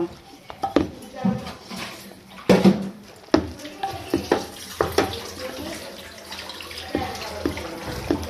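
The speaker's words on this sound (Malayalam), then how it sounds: "നമുക്ക് ചക്ക ഒന്ന് ശരിക്കും ഉടച്ചു കൊടുക്കട്ടോ" Cooked jackfruit mashed inside a pressure cooker, with repeated irregular thuds and metallic clanks of a utensil against the pot, close and separated by short pauses, with a voice speaking intermittently.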